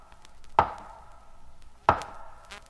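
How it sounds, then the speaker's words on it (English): Loud, slow knocks at the head of a bed in a dramatized spooky scene, heard as sharp, close impacts with a long pause between them and no talking. Only two blows come through clearly, followed by a faint tail. "I heard 3 slow, loud, distinct knocks at the head of my bed."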